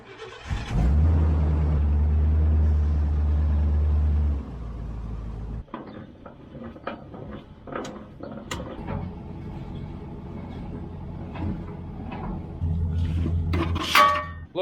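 A trailer is unhooked from a '98 Chevy pickup, an idling engine rumbling loudly at first, then giving way to scattered metallic clanks, knocks and rattles of the hitch, with the engine rumble returning near the end.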